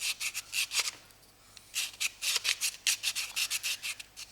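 Sanding a wooden veneer ring along the grain: quiet, close scratchy rubbing strokes in quick rhythmic bursts with a short pause between sets.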